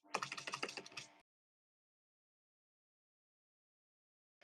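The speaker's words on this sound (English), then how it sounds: "That might be some of the most disappointed clicking I've heard in a while." Rapid computer keyboard clicking during an online tabletop role-playing session, a dense burst of close keystrokes lasting about a second before falling silent.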